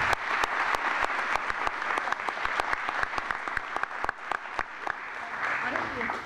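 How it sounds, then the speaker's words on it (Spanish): An audience at a talk or conference applauds the participants, with individual claps in a sparse, uneven rhythm over a background of crowd murmur and chatter. "aplauso a los participantes."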